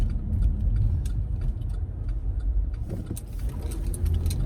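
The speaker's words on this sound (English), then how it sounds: "let me slam on the gas. This Cadillac goes fast." A Cadillac car accelerates hard, its engine giving a steady low rumble that holds loud and close throughout with no talking over it.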